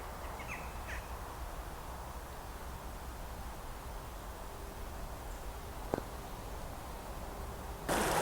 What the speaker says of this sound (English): It's unusual to see so many seagulls.